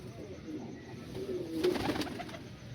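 Punjabi Malwai pigeons coo softly at close range, a faint low rolling coo rising briefly in the middle over a quiet room background.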